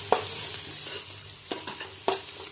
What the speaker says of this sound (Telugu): బాగా వేగించుకోవాలండి ఆనియన్స్ని, పచ్చిమిర్చిని.